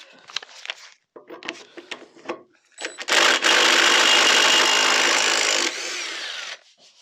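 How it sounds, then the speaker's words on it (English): Lawnmower blade from a Briggs and Stratton 450E being sharpened: a few short scraping and clanking handling sounds, then a loud, steady power-tool grinding for about three seconds that drops slightly in level before cutting off. "we're going to get this blade off now and give it a sharpen"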